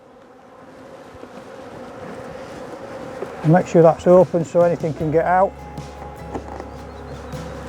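Honeybees from a freshly opened hive on a warm day, a steady low insect drone sitting under close speech that dominates the middle of the clip.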